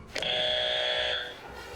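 A game show buzzer sounds once in a French team quiz battle with a horror theme, a bright sustained electronic tone lasting about a second, loud and alone before cutting off.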